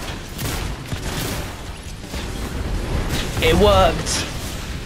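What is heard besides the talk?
explosion in the video game Fortnite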